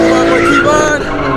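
Tires skid and squeal as a car spins out in a circle at a Chicago street takeover, the screech loud, close and continuous over steady engine roar, with voices talking and shouting throughout.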